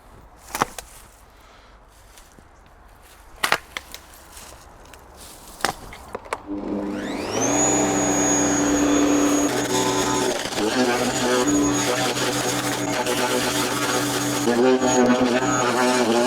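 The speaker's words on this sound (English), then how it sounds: "today I'm going to use my chipper to chop this all up" A garden chipper starts up and runs steadily, grinding and shredding cut branches with a loud sustained mechanical whine, after a few sharp snapping chops and quiet handling sounds.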